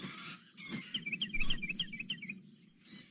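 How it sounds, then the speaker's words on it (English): Birds whistling in the Carmen Sandiego's Great Chase Through Time video game, quick runs of bright chirping notes over soft background tones, fairly quiet and with no talking. "most of these birds seem content to just whistle back at us"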